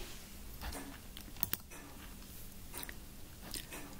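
Quick, light tapping of a pattern name on a computer keyboard, a brisk run of soft close keystrokes with a couple of sharper clicks, quiet and without talk.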